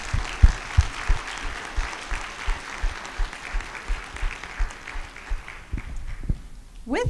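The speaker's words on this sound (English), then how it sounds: "Let's just give them a big round of applause and a big thank you." Steady applause from a luncheon crowd fills the room, dense clapping sustained for several seconds before tapering off near the end.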